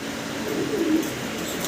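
Fancy pigeons, a Roman gal pair with females in breeding condition, let out a soft, brief coo midway through, set against a steady background hum with no talking.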